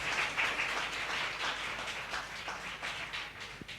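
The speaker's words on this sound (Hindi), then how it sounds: "हम सब जन जोर से तालियां बजाएं प्रभु की महिमा के लिए" A church congregation claps loudly together in praise during a Hindi-language worship service, a steady dense patter of many hands sustained throughout without pause.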